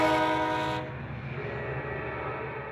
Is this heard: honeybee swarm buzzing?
no